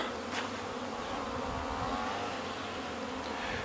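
A steady, dense buzzing of many bees at the hives in an apiary by a rapeseed field fills the air continuously, close and even, with no voices.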